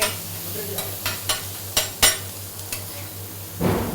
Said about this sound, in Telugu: లైట్గా రోస్ట్ చేస్తాము, కొద్దిగా ఆయిల్